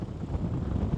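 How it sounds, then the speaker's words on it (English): Strong coastal wind at Cape York buffets the microphone in a low, rumbling roar, gusting steadily for a moment with no voices. "You'd be able to tell right now just how windy it is."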